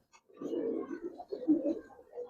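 Low, rolling coos from Giribaz pigeons in a loft, two soft murmuring phrases close by with no one talking over them.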